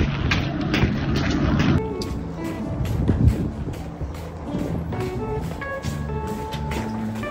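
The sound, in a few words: wind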